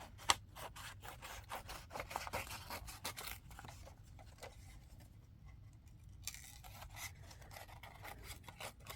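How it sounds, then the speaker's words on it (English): Scissors snip through paper in a short run of rasping, scraping cuts, close and fairly quiet, while a junk journal is being made, with brief pauses between strokes. "And then let's cut this out."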